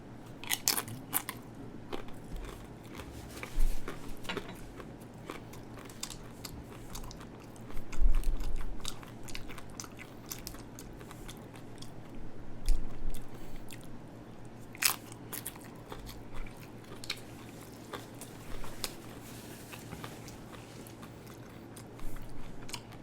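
Someone bites into and chews air fryer nachos with ground beef, fresh habanero, onions and a melted four-cheese blend, giving repeated close, loud crunches and steady mastication for over twenty seconds, with no talking.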